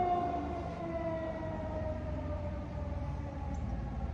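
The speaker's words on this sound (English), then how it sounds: "There are those sirens again." Sirens wail steadily at a distance, a sustained tonal drone with slowly shifting pitch layered over low rumbling background noise, with no talking.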